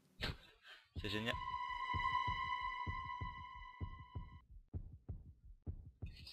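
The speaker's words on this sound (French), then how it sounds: "J'entends mon cœur battre." A heartbeat in a Minecraft horror game throbs as a steady run of low, soft pulses beneath a held electronic tone and brief voice sounds at the start.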